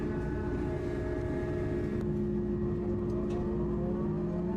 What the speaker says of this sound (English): We have started the engine.